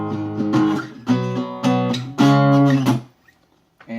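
Dean guitar fitted with a Fishman Neo D pickup, played through a little amp with some distortion, strums four bright chord hits in an even rhythm that ring out then fall silent.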